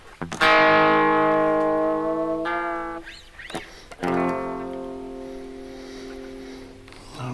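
Electric guitar through a distortion effect, loud sustained chords ringing out and decaying, a brief pause with a couple of string noises, then another heavily distorted chord rings long.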